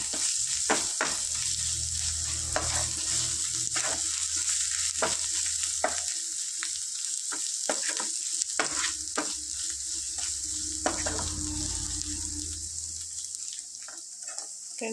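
Ginger garlic paste and turmeric frying in a pan with an oily sizzle, interrupted by sharp clicks and scrapes of a stirring spoon across about fifteen seconds, no voices.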